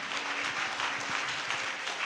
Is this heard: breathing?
no